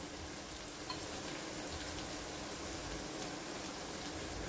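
Potato pieces sizzle and crackle in hot oil in a pan with softened onions, cooked for a Bengali katla fish-head muri ghonto. The frying hiss is steady and dense throughout, with no talking.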